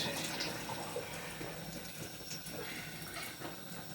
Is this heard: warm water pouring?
yes